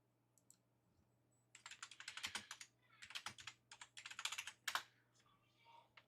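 Close computer keyboard typing comes in quick clustered runs of sharp clicks separated by short gaps, with a faint constant hum under it and no talking.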